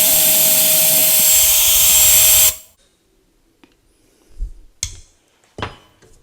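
A drill bit grinding out the flint inside a Ronson GEM automatic petrol lighter, a loud steady high-pitched whine running continuously before cutting off abruptly, followed by a few faint scattered clicks and taps from handling the lighter.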